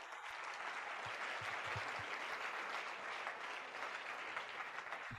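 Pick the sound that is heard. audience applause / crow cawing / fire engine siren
audience applause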